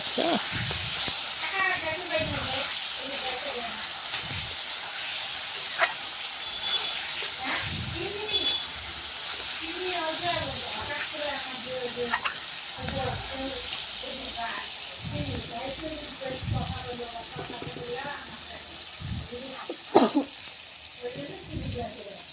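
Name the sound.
frying spices (masala) in a pan for vegetable curry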